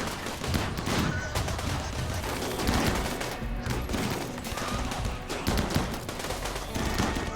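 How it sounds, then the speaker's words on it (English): Sustained gunfire from the colony defense game RimWorld, dense overlapping shots crackling continuously at a steady level, with no voices over the shooting. "Just keep shooting, everyone. Don't stop firing."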